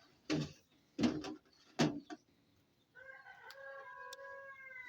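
A few sharp clucks from chickens in quick succession, then a steady higher-pitched crowing or drawn-out call from a bird, fairly close.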